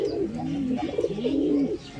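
A pigeon coos in two low, rolling phrases, close by over a steady faint background hiss.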